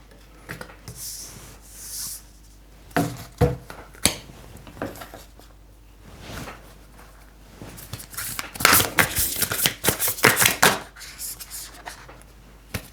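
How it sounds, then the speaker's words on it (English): Oracle cards shuffled by hand for a card reading, giving quiet papery riffles and slides that come in several short bursts, louder near the end, with faint room noise between. "So let me just shuffle here and get a first card."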